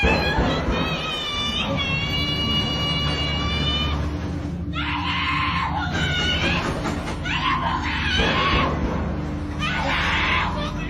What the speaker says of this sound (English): Someone can be heard screaming for help,